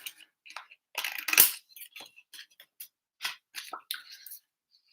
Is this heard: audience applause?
no